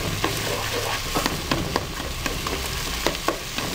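Tomato cubes for red rice with poblano chile sizzle in a pan while a spoon breaks them up, steady frying hiss punctuated by quick rhythmic scrapes and taps.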